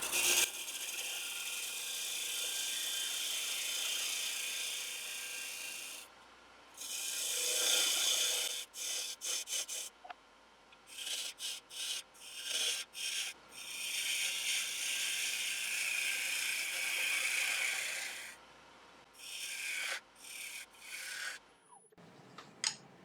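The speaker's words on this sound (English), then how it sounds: "Just going to use a slightly bigger parting tool just to remove a little bit more material." A slightly larger parting tool cuts into a wooden bowl spinning on a lathe at about 1600 RPM. The cut gives a steady, close scraping rasp in long stretches, broken by short bursts and pauses, with no voices.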